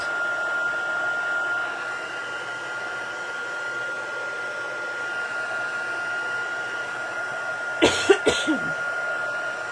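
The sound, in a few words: drying stamped ink on paper with a dryer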